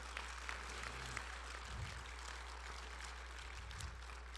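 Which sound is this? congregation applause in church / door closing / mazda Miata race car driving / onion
congregation applause in church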